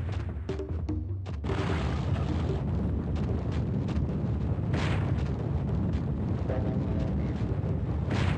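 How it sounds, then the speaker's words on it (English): A rolling boulder in the Crash Bandicoot video game produces a loud, continuous rumbling roar that swells and booms steadily throughout, with no voices. "Okay, run away from the boulder. Why is the boulder chasing me?"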